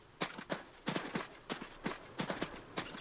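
Horse hooves clip-clop in a steady walking rhythm in the video game Adios, about ten distinct hoof strikes in loose pairs, moderately close and clear with no talk over them.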